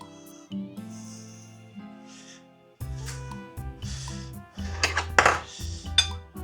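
A spoon scrapes and clinks against a dish or bowl while scooping minced meat for French-style cutlets. Several close metallic taps and scrapes come at an irregular pace, building into busier clatter toward the end.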